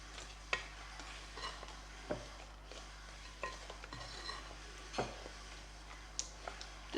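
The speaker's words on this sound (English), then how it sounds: "we're going to give that a really good mix" A spoon scrapes and taps around a bowl, mixing date loaf batter with boiling water and melting butter in a loose irregular rhythm, close and fairly quiet over a low background hum.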